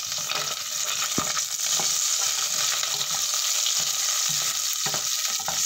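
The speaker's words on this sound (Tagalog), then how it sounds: "Mag-gisa, mag-saute. So, yung first onions." Onions sautéing in hot oil in a pan for sweet and sour pork meatballs, a steady close sizzle with occasional stirring clicks from the pan, no talking.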